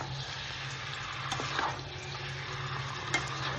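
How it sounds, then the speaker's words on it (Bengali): Mutton being sautéed for kosha in a pan, a steady close sizzle and fry with occasional stirring scrapes and clinks, continuous throughout with no talking. "এটাকে ভালো করে কষাতে হবে।"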